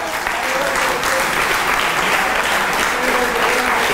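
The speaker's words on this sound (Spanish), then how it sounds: "Se merece un aplauso." An audience applauds at an event in Cuba, a dense, steady wash of many hands clapping that holds at an even level throughout.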